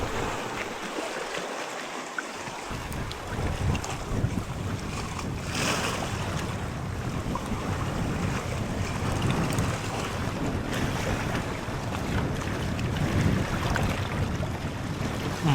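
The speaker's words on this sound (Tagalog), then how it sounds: "Pero malakas yung hangin guys." Strong wind roars and buffets steadily against the microphone throughout, with a constant rushing blast and no pauses.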